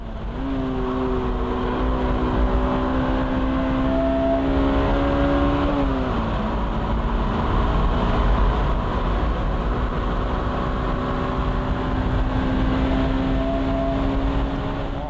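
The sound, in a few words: Honda NSX Type R accelerating on the straight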